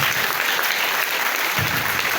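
Brief burst of audience applause following a speech, a loud, even roar of many people clapping with no pause.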